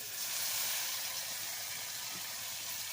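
Ground masala tipped onto sautéed onions in a pan for a ridge gourd sambar, giving a steady, close, bright sizzle and hiss that holds evenly for a few seconds with no talking.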